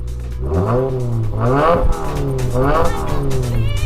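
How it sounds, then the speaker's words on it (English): A Subaru WRX engine with a REMARK catback exhaust revs up in repeated surges, rising and falling three times, loud and close with a throaty exhaust roar. "When you get on the throttle, it gives you that nice, rewarding roar"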